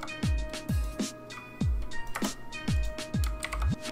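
Close keystrokes on a computer keyboard during Photoshop work, landing as distinct clicks in an uneven rhythm with short pauses between them.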